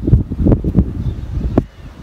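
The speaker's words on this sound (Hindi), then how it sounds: "उस दिन की तरह आज भी बहुत हवा चल रही है" Strong wind gusts across an outdoor microphone on a building rooftop, a steady low roar with rustling swells and one sharp buffeting burst near the end.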